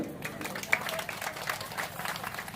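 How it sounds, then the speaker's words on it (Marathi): A crowd at an outdoor Jijau Rath Yatra rally claps to welcome a speaker: fairly faint, scattered applause with distinct hand claps, mixed with voices talking. "टाळ्या वाजून त्याचं स्वागत करूया"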